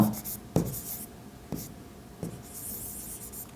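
Pen or chalk strokes writing out a maths solution about matchstick patterns, heard as a few distinct taps and short scratchy strokes at close range, with light rubbing in between and no talking.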